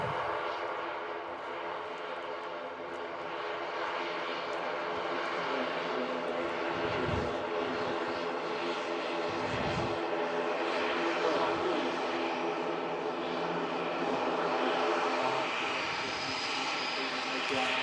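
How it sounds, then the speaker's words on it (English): A Hainan Airlines Airbus A330 jet departing Manchester Airport, a sustained loud engine roar that holds steady across the whole stretch with a slight swell toward the end. "Oh, Hainan 330 on the way out."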